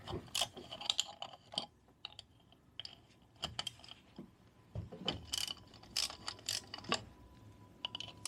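A 10mm socket on a ratchet loosening the bolts of a 1953 Mobylette AV33 moped cylinder head, with close bursts of rapid metallic clicking and scattered clanks of tools and metal parts.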